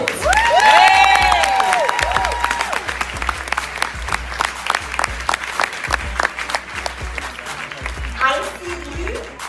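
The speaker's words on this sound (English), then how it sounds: "Round of applause." Conference audience breaks into loud applause and cheering, with whoops and shouts over dense clapping, while an amplified voice speaks over the crowd throughout.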